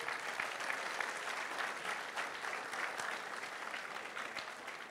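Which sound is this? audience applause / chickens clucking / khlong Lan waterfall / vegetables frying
audience applause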